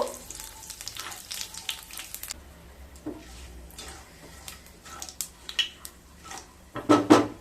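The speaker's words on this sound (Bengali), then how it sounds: "সর্ষের তেল দিয়ে দেব, দুটো শুকনো লঙ্কা দিয়ে দিলাম, হাফ চামচ কালো জিরে দিয়ে একটু নেড়ে নেব" Dried red chillies and nigella seeds crackle in hot mustard oil in a pan, a soft sizzle broken by scattered clinks and scrapes of a spoon being stirred, ending in a brief louder spatter.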